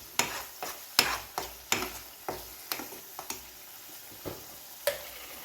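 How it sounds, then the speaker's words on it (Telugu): Ginger garlic paste with green chillies frying in a pan, heard as a steady soft sizzle broken by repeated stirring scrapes and clicks at an uneven rhythm, close by with no talk. "అల్లం వెల్లుల్లి పేస్టు, ఇవన్నీ పచ్చివాసన పోయేంత వరకు వేయించుకోవాలి."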